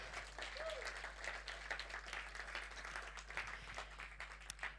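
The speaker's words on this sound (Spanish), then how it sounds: "¿Cuánto le dan un aplauso a Jesús?" A church congregation applauds together during a Spanish-language Sunday service, a steady wash of many hands clapping at moderate distance, with voices faintly mixed in.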